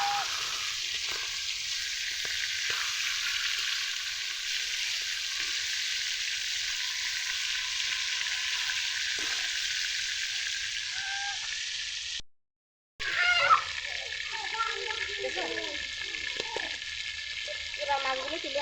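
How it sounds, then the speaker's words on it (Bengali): Pangas fish fry in hot oil, giving a loud, even, close sizzle with occasional pops. It cuts out briefly, then returns with voices talking over it. "মাছগুলো এরকম লাল লাল করে ভেজে নেব সবগুলো"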